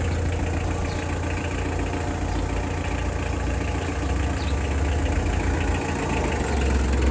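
A Kubota L2600 tractor's diesel engine idles steadily and close by, a continuous low, knocking rumble with no talk over it.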